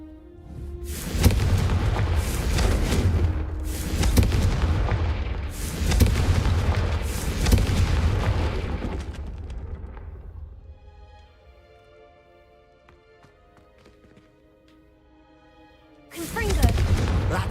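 Fiery Confringo spell blasts in Hogwarts Legacy, a series of loud booming explosions over roughly ten seconds, then a quieter lull with a faint musical tone before another blast erupts; voices talk over parts of it.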